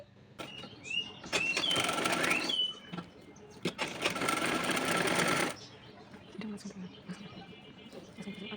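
A sewing machine runs in two sustained bursts while a zipper is stitched onto a kameez, with brief pauses and fabric handling between runs; someone talks throughout.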